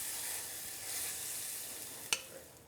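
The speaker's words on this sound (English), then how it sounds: "Some fresh black pepper, and let this simmer for about 10 minutes." Cioppino sauce in a pot gives off a soft, steady sizzling hiss, fairly quiet and close, broken near the end by one sharp utensil clink and a fainter knock.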